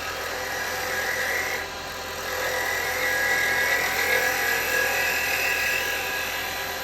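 A roughing gouge cuts a bone-dry wooden bowl spinning on a lathe, giving a steady, loud, continuous shaving hiss and whir with a brief dip partway through.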